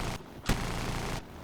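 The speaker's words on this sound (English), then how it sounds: "which he is firing his cannon" Aircraft cannon fire in War Thunder aboard an SB-2M-105 bomber, a single sharp, loud burst cutting through a steady engine drone in the middle of the short stretch.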